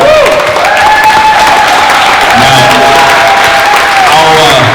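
An audience at a leadership event applauds a newly commissioned young Marine Corps officer, a steady wash of clapping with crowd noise while a voice speaks over it near the start.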